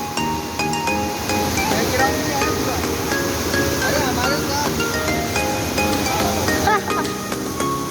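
Rushing water pours down a mountainside on the road between Shogran and Naran, a loud, continuous broadband roar that fills the scene, with faint voices and a few metallic clinks nearby.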